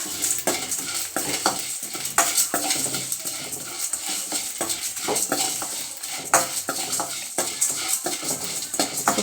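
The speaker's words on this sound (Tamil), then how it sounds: "இப்போ பட்டை, கிராம்புலாம் இருக்குல்லங்க, அது சேர்க்க போகிறோங்க. இதில் வாசனை வர வரைக்கும் வறுக்கணுங்க." Whole cinnamon and cloves fry in a pan for gongura mutton, a spoon scraping and clinking against the metal in quick repeated strokes over a steady close sizzle, with no voices.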